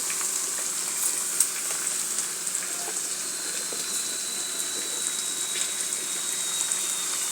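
Bitter gourd frying in hot oil gives a steady, close sizzle with a soft watery hiss and faint crackles throughout, no voices.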